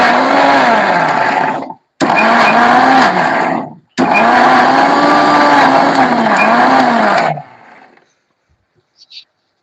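A mixer grinder whirs loudly, blending a spice paste for Kashmiri dum aloo in a home kitchen, running in three bursts with brief pauses before switching off into near silence.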